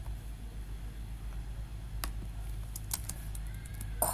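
Computer keyboard keys tapped while HTML code is written, soft sparse clicks over a quiet hum, starting slowly and then bunching into a quick burst near the end, close and faint.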